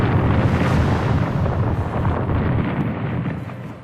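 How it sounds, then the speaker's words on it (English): A titanic explosion in a Total Annihilation: Kingdoms cinematic destroys a cavern entrance, a loud, sustained roaring blast with deep rumble that slowly fades toward the end. "destroyed the Creonite entrance to the caverns of Bis in a titanic explosion"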